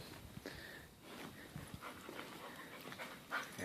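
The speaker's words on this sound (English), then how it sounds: "the pup, the mutt." A dog, called the pup or the mutt, pants quickly and softly at close range, with a few faint snorts and whimpers among the breaths.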